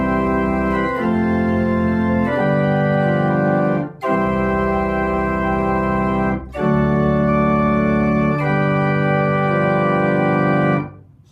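A small unit pipe organ plays a slow sequence of held chords with bright string and flute tone, the string at 8, 4 and 2 foot, brief breaks between phrases, then the sound ends.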